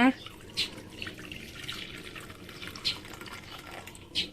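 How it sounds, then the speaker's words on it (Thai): Pandan water poured into a jelly mold in a kitchen, a soft continuous trickle with a few brief splashy drips, fairly quiet. "เทน้ำใบเตยลงไปในพิมพ์เลยนะคะ"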